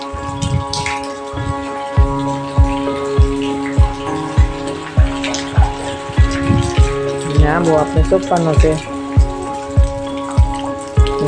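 Rain falling steadily in a village during a long monsoon spell, with repeated dripping taps over the steady patter, partly beneath a person talking.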